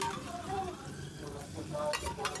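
Tomato and ginger-garlic paste sautéed in a pan for a black pea curry, with a soft continuous frying sizzle and light stirring scrapes, fairly quiet and close.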